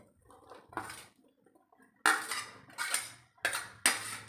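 Gram flour batter with cut onions is stirred in a bowl, giving several sharp, close scraping and clinking bursts of a spoon against the bowl, separated by quiet pauses, with no talking.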